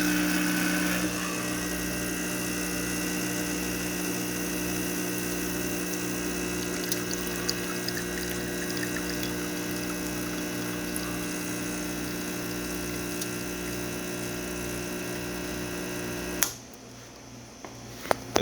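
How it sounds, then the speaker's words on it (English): A Gaggia espresso machine pulling a shot gives a steady, loud pump drone with a low pulsing buzz for about sixteen seconds, then cuts off abruptly and leaves a quieter room with a couple of small clicks. "Now we're ready to make a shot of espresso."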